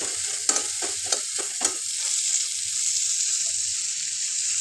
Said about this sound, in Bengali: মানে আলু পেঁয়াজ একসাথে ভাজা ভাজা হোক